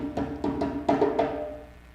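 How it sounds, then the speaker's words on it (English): Drum signal struck on a hand drum at a live talk event, a handful of sharp resonant hits in a quick irregular pattern, the last strokes ringing out and fading, close and fairly loud with no talk. "And that drum signal, it sounds like this."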